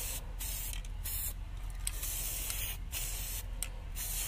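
Aerosol spray coating a bicycle disc brake rotor, close hissing bursts of varying length separated by short gaps, with no talk.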